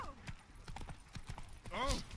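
Horse hooves clip-clop in The Witcher 3, a series of sharp, evenly spaced steps close by over low game ambience, with a loud whinny-like burst near the end.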